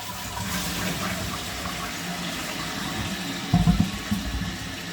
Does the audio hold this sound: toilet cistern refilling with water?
yes